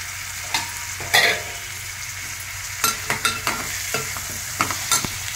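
Tomatoes, onions, green chillies and curry leaves frying in oil in a pan, with steady sizzling broken by several stirring scrapes and clacks spread through the clip, close and fairly quiet, with no talking.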